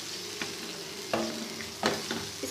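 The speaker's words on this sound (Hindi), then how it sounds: "इसको कुछ देर हम फ्राई करेंगे, फ्लेम मैंने हल्का कर दिया था, फ्लेम को थोड़ा सा तेज़ करेंगे।" Mutton liver masala frying on a tawa, a close continuous sizzle with a few sharp scraping stirs of a spatula, no one speaking.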